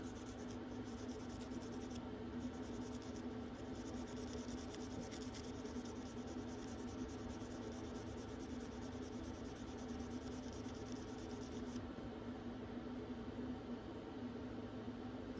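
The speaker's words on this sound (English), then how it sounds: "That Scotch-Brite is actually working pretty good." A Case stockman pocketknife blade with genuine stag handles is scrubbed with a Scotch-Brite pad. Steady, close rubbing and scratching runs continuously at an even level, with no talking.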